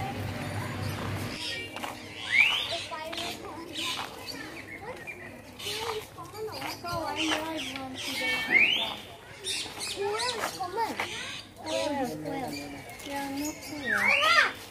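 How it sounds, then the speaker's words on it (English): Birds chirping at a zoo in Assam, short bright calls scattered among people talking and background crowd noise, fairly faint. "Guys, you can hear the birds chirping."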